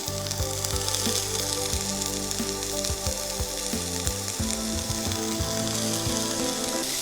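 Cleaned banana flower frying in hot oil for kola urundai sizzles continuously and fairly softly up close, with a steady crackling hiss and occasional small pops. No voices.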